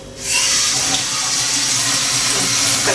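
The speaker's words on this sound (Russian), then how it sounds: "Надо залить это водой." Water poured steadily over beans for sweet anko bean paste, a loud continuous rushing splash that starts after a brief pause and keeps going.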